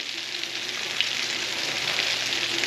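Steady, bright crackling sizzle of catfish pieces deep frying in hot oil, close up and continuous, with no talking.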